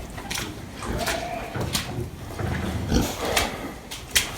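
Pigs with litters of piglets, including a young gilt, grunt and squeal in a farm shed, with short overlapping calls and rustling close by.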